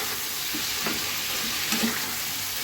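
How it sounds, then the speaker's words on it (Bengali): Chopped tomatoes fry in a pan with a steady close sizzle, faint scraping from stirring now and then. "এখন খুব ভালো মতন কষিয়ে নেব প্রথমে টমেটোটা।"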